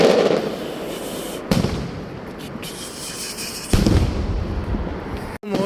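Rapid crackling bursts of firecrackers going off at a village feast in Tarxien, Malta, with a couple of louder booms standing out amid continuous popping, fairly close and loud.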